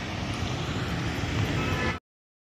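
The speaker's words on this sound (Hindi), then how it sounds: "मतलब गर्मी के टाइम पर भी बहुत अच्छी हवा चल रही है यहाँ पर।" A steady breeze buffets the microphone on a rooftop restaurant in Jaisalmer, a continuous dense rushing roar for about two seconds before cutting off abruptly.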